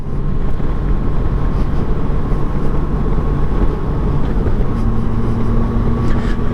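A Honda GL1500 Goldwing motorcycle cruising after a carburetor rebuild, its engine droning as a steady low rumble with wind noise, loud and close, no speech.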